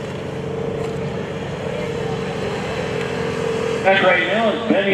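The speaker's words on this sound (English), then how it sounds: "Two very similar rear-engine dragsters, big inch, big block Chevys on methanol." Rear-engine dragsters with big-block Chevy engines on methanol race at a drag strip, a loud, steady engine roar that swells near the end, with a voice talking over it.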